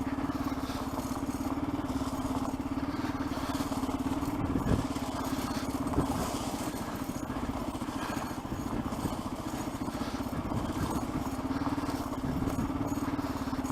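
An engine running near an abandoned railway, a steady, close mechanical drone with a firm low hum and light rattling that holds evenly from start to finish.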